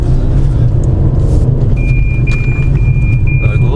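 A BMW E36 drift car at a Mega Drift event gives a loud, steady engine roar and road rumble that holds close and constant, with a faint high whine emerging partway through.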